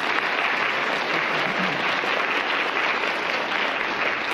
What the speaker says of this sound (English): let's give the Pell City High School Percussion Ensemble one more round of applause